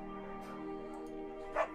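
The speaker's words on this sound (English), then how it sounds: "I'm clearly going to pick up the beagle." A beagle in the video game Firewatch gives a single short yip over steady background music, fairly faint and brief.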